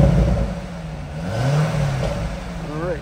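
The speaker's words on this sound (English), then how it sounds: "let's give it a couple revs." A 2013 Corvette Grand Sport convertible's 6.2-litre LS3 V8 idles low and then revs up once with a rising roar before settling, steady and close, with no talking.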